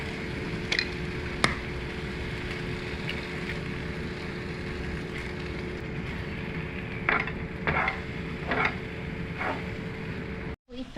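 Three eggs fry in a pan with a steady, close sizzle, broken by a few soft clinks and scrapes near the end. No one speaks.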